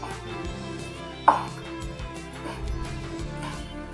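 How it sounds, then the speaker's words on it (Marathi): A knife slices a steamed kothimbir (coriander) vadi roll on a board, giving one sharp cut near the middle and a few softer thuds after it, all close and fairly quiet over light background sound. "बाकीच्या पण वड्या आपण तशाच कापून घेऊ"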